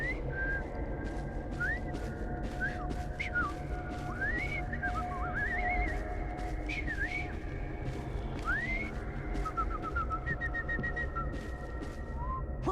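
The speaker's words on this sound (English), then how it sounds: "I've just learned to whistle." Whistling from a character in Assassin's Creed Syndicate: a string of rising and falling melodic whistled notes and slides, clear and up close over a steady busy street ambience.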